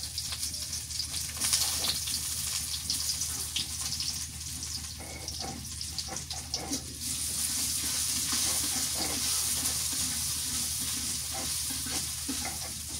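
Chopped onion frying in mustard oil, a loud, steady sizzle that fills the whole stretch, with faint scraping and stirring noises rising now and then above the hiss.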